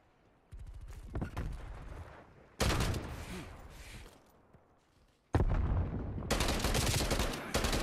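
Rapid bursts of automatic gunfire from a repeater gun in a first-person shooter free-for-all match, three loud sustained volleys of fast cracking shots separated by short pauses, close and dominant.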